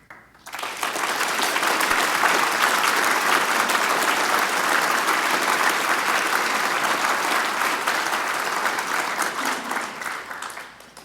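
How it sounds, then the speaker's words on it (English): A gala audience breaks into loud, sustained applause that swells quickly, holds strong for several seconds, then tapers off. "I thank you for your applause"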